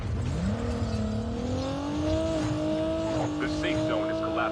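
A vehicle engine in a battle royale game drones and rises steadily in pitch as it accelerates, fairly close, with some tire noise and voices talking over it.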